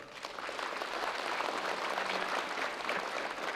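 Audience applause at a 2005 district public meeting in Gwangmyeong, South Korea, a steady dense wash of many hands clapping that swells in quickly and holds evenly throughout, with no talking over it.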